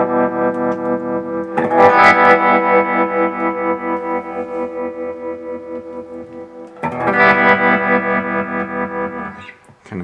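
An electric guitar plays through an Electro Harmonix Stereo Pulsar tremolo pedal set to a rising sawtooth wave, its sustained strummed chords pulsing in quick, steady volume ramps, with a second strum partway through.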